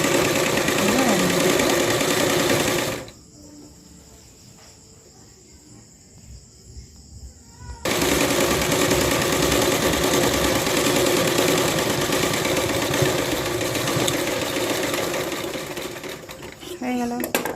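A sewing machine stitching a salwar runs in a fast, loud mechanical whir, stops for several seconds of near quiet, then starts again and keeps running steadily to the end.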